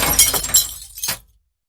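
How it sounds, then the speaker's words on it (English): A bridge chair smashes against a marble column, a loud burst of breaking and shattering over about a second, followed by a short final crash and sudden silence. "Corsin spun and shattered his bridge chair against a marble column."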